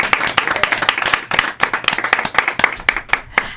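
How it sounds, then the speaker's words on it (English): A small studio audience on a talk show claps to welcome a guest host, with crisp, distinct individual hand claps in a brisk, uneven rhythm, close and loud, with no talking. "Let's give Vanessa Davis a round of applause, everyone."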